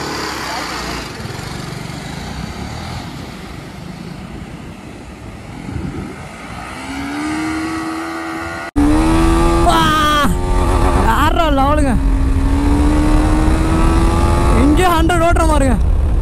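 A TVS Apache RTR 310-type 6R 310 motorcycle engine drones steadily while riding, its pitch rising and settling, then growing louder and closer partway through with brief revs, while people talk over it.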